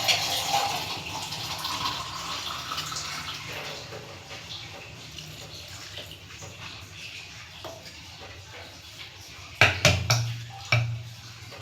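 Cold water is poured onto fresh homemade butter in a pot, giving a soft, running wash of liquid. Several louder clanks of the vessel follow toward the end.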